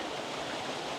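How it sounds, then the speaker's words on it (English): A small waterfall on a path near a wild campsite gives a steady, even rush of falling water, moderately close and unbroken, with no voices. "Nice little waterfall here"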